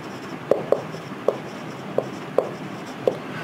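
Chalk or marker taps and strokes on a lecture board, six short distinct knocks at an uneven pace over a quiet room hum, fairly close, with no talking.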